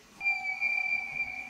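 A short synth accent stab from Omnisphere rings as a single sustained, whistle-like tone that swells in briefly and holds, fairly quiet and alone.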